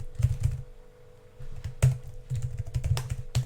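Fingers type a password on a computer keyboard in short bursts of close, crisp key clicks with small pauses between them and no talking.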